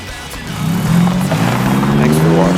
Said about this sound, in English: catback exhaust put on too. Really quieted it down. Great on the interstate. Still has a little bit of rumble to it